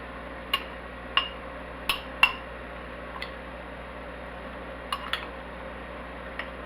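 A spoon mixing fish marinade in a bowl gives a handful of sparse, light clinks against the dish, spaced irregularly over a quiet, steady background with no talking.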